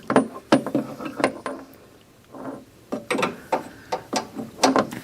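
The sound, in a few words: ratchet and socket tightening steering U-joint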